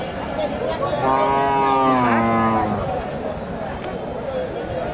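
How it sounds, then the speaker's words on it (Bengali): A large black Sahiwal cow gives one long, deep moo that rises and falls over about two seconds, close by, with murmuring voices and the outdoor bustle of a cattle market around it. "কালো শাহিওয়াল, বেশ বড়সড় গাভী"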